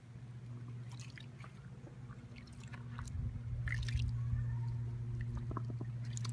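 Wool fleece pressed down into hot wash water around 130 degrees, giving soft squishing, sloshing and dripping sounds close by under a steady low hum, with no talking.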